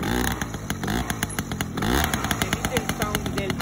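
A two-stroke 50cc moped with an 80 carburetor and a complete Leo Vince exhaust runs up close, giving a loud, raspy, rapidly pulsing exhaust note with repeated throttle blips while people talk over it.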